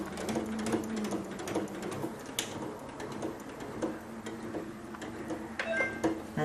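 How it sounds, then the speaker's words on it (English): A Janome MC15000 embroidery machine runs a locking stitch in place, a soft, rapid mechanical ticking and whirring held steady for several seconds, close but quiet, with no talk. "So it's just stitching on the spot, it locks off."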